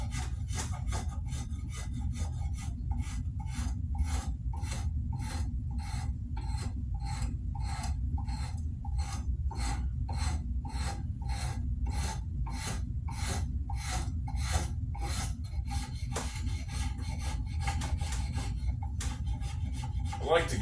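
A draw knife shaves wood in steady, regular pulls, each stroke a crisp rasping scrape repeated about every half second, close and alone over a low background hum.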